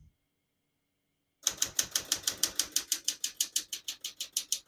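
A 1966 Smith-Corona Super Sterling portable typewriter typing a rapid, even run of about twenty sharp key strikes after a short silence, close and crisp with no talk.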